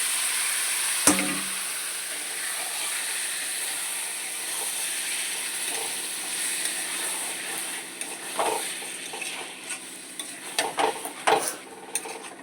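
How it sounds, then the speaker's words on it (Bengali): Marinated chicken drops into a heated kadai with a sharp clatter, then sizzles under a steady hiss while a utensil scrapes and knocks against the pan in irregular stirring strokes. "কড়াইটা একটু গরম করে নিয়েছি এবার কড়াইয়ের মধ্যে মাখা মাংসটাকে ঢেলে দেবো"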